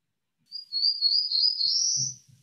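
Black-throated blue warbler song: a high, buzzy phrase of a few lazy notes rising in pitch toward the end, clear and near, with faint low thumps in the background as it finishes.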